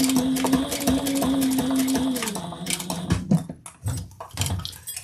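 A sewing machine stitches down leather in quick mechanical bursts, a rapid buzzing run that slows and stops partway, followed by scattered handling clicks and knocks nearby.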